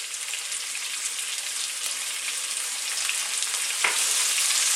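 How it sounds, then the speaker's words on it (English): Chopped onions and garlic ginger paste fry in hot oil in a pan for an okra curry, giving a steady, close, bright sizzle with faint crackles and no talking. "I'm now going to add our onions. And our garlic ginger paste."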